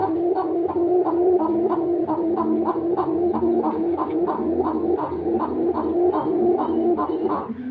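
Pigeons at a breeding farm coo in a steady repeating rhythm of low throaty calls, several birds close by and overlapping throughout, with no talking.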